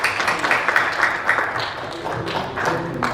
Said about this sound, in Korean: 박수 좀 한번 다시 크게 쳐주세요.